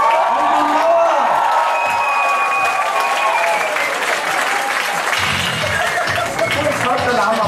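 Warm applause and cheering fill a crowded hall at a youth ball in Heiligenkreuz, steady clapping running throughout with a few whoops, and a voice over a microphone speaking partway through.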